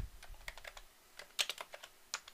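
Key presses on a computer keyboard entering a shortcut, a quick run of light clicks with a sharper cluster in the middle, close and quiet with no voices.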